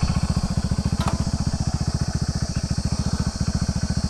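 Hero HF Deluxe BS6 motorcycle engine running after a carburettor fitting, thumping in a steady, even rhythm close by, with a brief click partway through.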